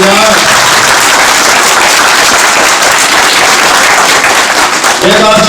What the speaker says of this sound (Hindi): इसके लिए जोरदार से उन बच्चियों के नाम पर आप ताली बजाएं।